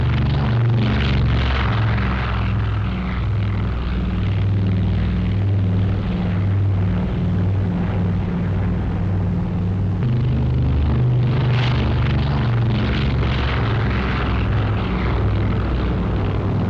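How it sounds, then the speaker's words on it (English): WWII airborne fleet of propeller planes taking off for Operation Varsity near Wesel, Germany, on 24 March: a loud, continuous roaring engine drone that swells and rumbles throughout, with no voices. "In almost perfect flying weather, the airborne fleet gets off the ground."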